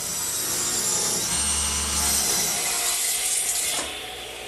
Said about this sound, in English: they're just some strips 1 5/8 wide cut out of a 2x4